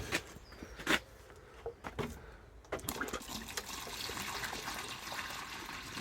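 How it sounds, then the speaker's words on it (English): Water pours from a watering can onto dry garden soil, a steady splashing trickle that starts after a few scattered knocks and handling sounds and then runs continuously to the end. "So I'll water them up now. Using my watering can."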